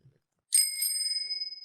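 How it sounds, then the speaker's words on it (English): An Electra kids' bicycle bell with a figure 8 design is struck twice in quick succession, a bright clear ding that rings on and slowly fades, close and alone. "On the left side we also have a bell with the figure 8 installed by Electra."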